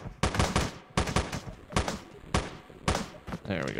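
Bursts of gunfire from a shotgun and grenade launcher in the top-down shooter Teleglitch, several sharp, loud blasts fired in an uneven rhythm close by, with a few clipped words in between.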